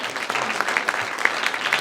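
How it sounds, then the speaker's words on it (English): Audience at a high school and college military speech competition breaks into brief, dense clapping, a short burst of many hands at moderate loudness with no talking over it. "how about you give a round of applause to Mr."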